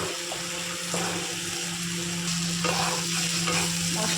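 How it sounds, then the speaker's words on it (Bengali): A spice paste of ground cumin, turmeric and green chilli paste sizzles steadily in a hot pan, with constant frying crackle and occasional stirring scrapes, close and without any voices. "মশলাটা কষানো হয়ে গেছে"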